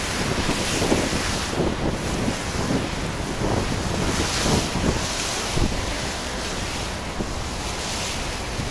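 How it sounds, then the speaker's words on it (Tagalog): Strong wind roars steadily by the sea off Mindoro in the Philippines, with waves washing beneath it and heavy gusts buffeting the microphone throughout. "Lakas ang hangin yan eh."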